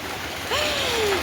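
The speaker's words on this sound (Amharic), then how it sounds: "እንግዲህ ገና ዛሬ ዝናብ እየጣለልን ነው ማለት ነው" Rain drums on a corrugated tin roof as a steady broadband hiss, with a short sliding whine rising and fading over it partway through.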